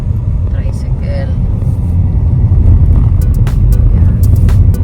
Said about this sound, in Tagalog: Oops, biglang nakasulpot ang tricycle.